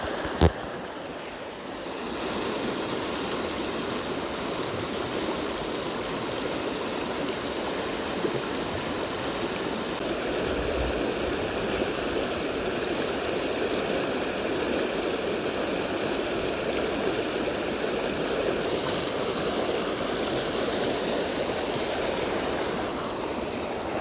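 Steady rushing river water at a fishing spot, a continuous broadband wash holding at an even level throughout, with no voices over it.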